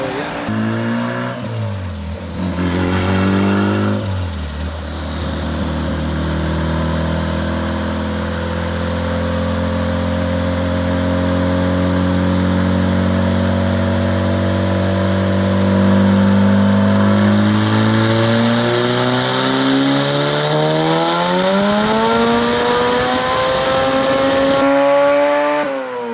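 A turbocharged Honda Civic on stock struts running about 12 to 13 psi of boost idles, then accelerates with wheel hop, its loud engine drone rising steadily in pitch near the end, with a brief stutter early on.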